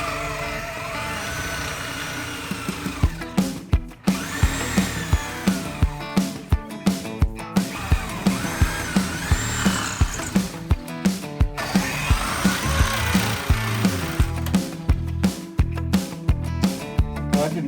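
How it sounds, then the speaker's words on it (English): A Sawzall reciprocating saw cuts the deck away from the hull of a Siren 17 sailboat, a loud, continuous buzzing rasp with a rapid stroke rhythm and brief stalls, close up. "I don't really want to cut it with the Sawzall, but I guess we don't have a choice"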